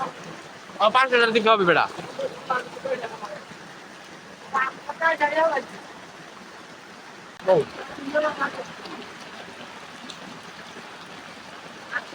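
Rain falls outdoors as a steady hiss that runs through the whole clip, while people talk in short bursts over it.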